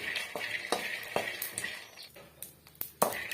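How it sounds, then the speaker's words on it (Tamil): Peanuts dry-roasting in a pan for chutney, stirred steadily, give rhythmic scraping and rattling strokes of nuts shifting against the metal, fairly close and with no voice over them. "நம்ம இந்த மாதிரி வறுத்துட்டே இருக்கணும் அப்போ தான் எல்லா சைடும் வந்து கடலை வந்து நல்லா வறுபட்டு வரும்"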